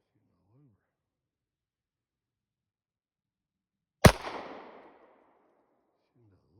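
A single loud pistol shot, from a Sig Sauer or Glock 17, cracks out close by and rings off in a short fading echo, with faint voices murmuring well before and just after.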